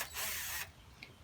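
A drill bit grinds into glass or ceramic for a brief half-second burst of high rasping whine, then drops away to a faint quiet tail with a small click.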